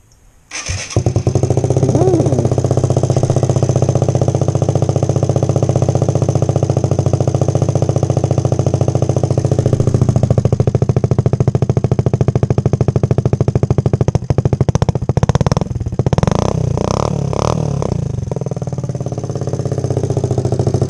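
A Kawasaki ZZR600E motorcycle engine starts and runs loud and close after a clutch replacement, a raspy steady idle through the exhaust can with a few sharp revs toward the end.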